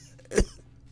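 A voice imitating a man's cough, one short, sharp burst in the middle of otherwise quiet air.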